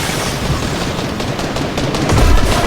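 Rapid, dense gunfire from a video game rattles continuously at close range, loud bursts blending into a constant crackle that swells slightly toward the end.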